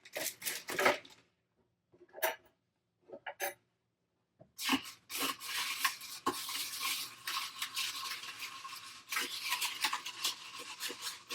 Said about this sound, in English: let's see what we can do by stirring that up a little bit